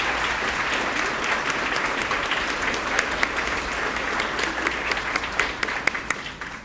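At a spring nursing pinning ceremony at St. Charles Community College, an audience gives sustained applause, steady and full throughout, with a few sharper individual claps standing out near the end.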